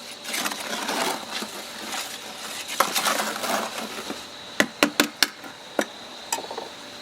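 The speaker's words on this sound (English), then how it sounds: "Let's stir this up a little better." A sand and water mixture is stirred in a container outdoors for a fall craft project, giving gritty scraping and swishing, followed by several sharp clacks of the tool knocking against the rim.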